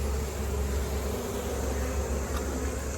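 Bees buzz steadily around the entrance of a newly installed Bee Smart hive fitted with entrance reducers, a dense, continuous droning hum close by with no voices.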